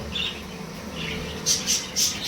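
Pet birds, baby birds among them, chirp near their food at home, a few soft chirps early and then three louder, brighter bursts close together near the end over a steady background hiss.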